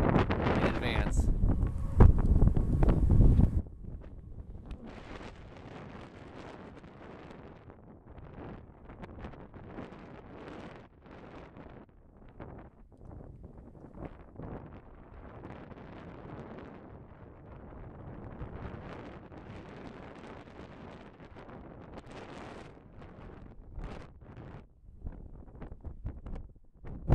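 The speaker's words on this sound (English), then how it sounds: "It is so windy out here." Strong wind buffets the microphone outdoors at an abandoned Texaco gas and repair shop, a heavy roaring gust at first, then ongoing gusty rumble and rustle for the rest of the stretch.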